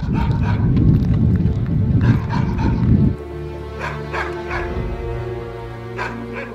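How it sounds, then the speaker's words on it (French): Several dogs bark and yip in an open field in Romania, a dense burst of overlapping barks up close that drops off abruptly, leaving scattered, fainter barks and whimpers with a low rumble beneath. "Il y a des chiens vraiment partout"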